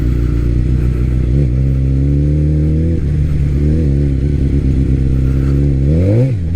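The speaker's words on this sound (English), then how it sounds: "I'm already freaking spinning in the dirt" A 1000cc Hurricane motorcycle spins its rear wheel in loose dirt, its engine droning loud and steady up close before revving sharply upward near the end.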